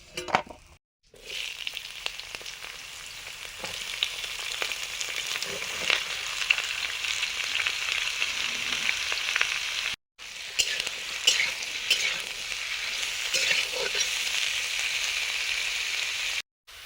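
Food frying in a pan, a continuous close crackling sizzle with occasional stirring clinks, briefly cut off twice, without any talk.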